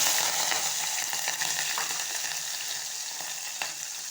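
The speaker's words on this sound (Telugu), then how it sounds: "ఆయిల్ అయితే వేడెక్కేసింది. ఇప్పుడు అందులో జీలకర్ర, పచ్చిమిర్చి," Cumin seeds and green chilies crackle and sizzle in hot oil, a steady bright frying hiss with scattered pops running unbroken throughout, fairly close and with no voices.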